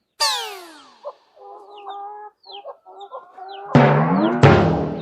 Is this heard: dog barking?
no